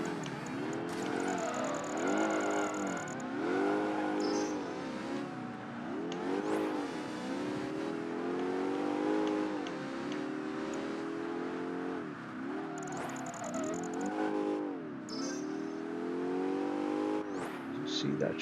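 A car engine in Project Gotham Racing 3 on the Xbox 360 revs and wails through a drift, rising and falling in pitch with repeated gear-shift dips and brief tire squeals, with someone talking over it.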